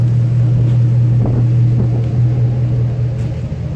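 A lifted 2015 Ford F-250 4x4 show truck with a 6.2 liter V8 idles with a loud, steady low engine hum and rumble, close to the microphone, with no talking.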